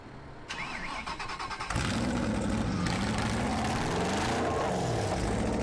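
A Citroën GT supercar's engine cranks and fires up, jumping from a starter whir to a loud, rough, rising roar that then settles into a throbbing idle close by.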